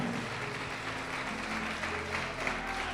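A church congregation applauds during a sermon, a dense, even wash of clapping that fills the hall at moderate level without a break.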